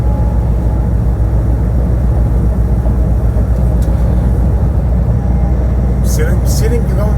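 Loud, steady low rumble of a truck cab rolling down the road in Atlanta traffic, engine and tire drone constant throughout, with talking over it.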